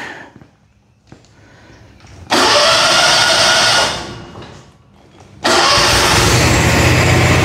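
A Z920M zero-turn mower engine with a newly replaced deck belt cranks and catches twice, roaring loudly and steadily close by after each start, with a quiet lull between.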